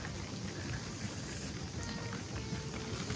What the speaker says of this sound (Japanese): 雨がね、 うん、 また降り始めちゃった。